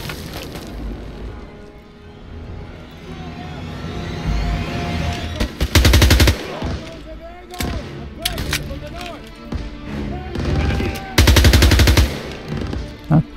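Gunfire in the Call of Duty WW2 video game comes as rapid machine-gun bursts and single shots, loud and close, with heavier blasts now and then, while a player talks over the fight.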